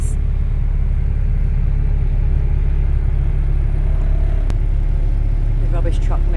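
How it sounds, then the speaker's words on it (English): Heavy engines of a rubbish truck, a scaffold lorry and a bus idling and edging around a tight street corner, a steady loud low rumble throughout with people talking over it. "We've got a rubbish truck, a scaffold lorry and a bus, all trying to get around the same tight corner"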